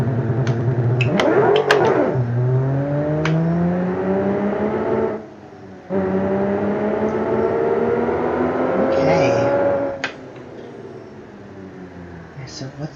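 A car engine in BeamNG cranks over and catches, then revs in rising and falling sweeps with a steady idle between, cutting out briefly before revving again, close and fairly loud.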